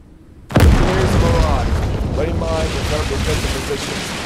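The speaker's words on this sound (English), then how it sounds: "Here's the barrage." A sudden heavy artillery explosion in a WWII video game bursts in loud and close, then a long rumbling roll of the barrage echoes and lingers with further distant booms beneath.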